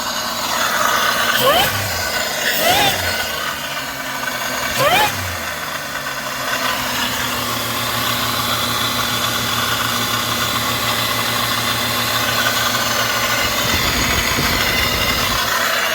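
A 2006 Pontiac Grand Prix engine idles high with a steady drone that fills the whole stretch, overlaid early on by several sharp metallic clanks and a few brief bursts of voices.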